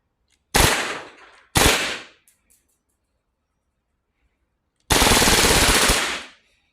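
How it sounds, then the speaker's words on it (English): Bursts of full-auto fire from a G&G Armament SMC-9 gas airsoft gun, two short rapid volleys followed after a pause by a longer sustained burst, close and loud in a quiet room. "Now these mags can hold quite a bit of gas, but we are just testing the weapon."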